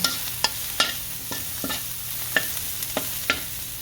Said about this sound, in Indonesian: Lalu tumis kembali sampai udangnya matang.